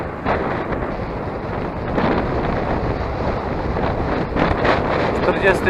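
Strong wind buffeting a microphone while cycling in the cold on a long-distance bike tour in Poland, a constant loud rushing roar with gusty swells, a voice faintly present beneath it.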